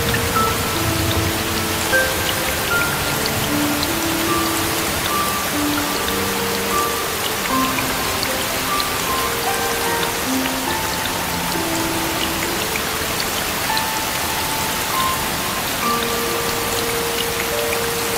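Rain shower pouring steadily outdoors, an even, unbroken patter of raindrops on surfaces lasting throughout at a constant level, with no speech.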